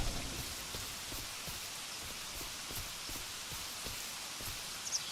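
Steady rain falling in a video game, a soft even hiss of drops on surfaces with scattered faint ticks, continuous and moderately quiet with no talking.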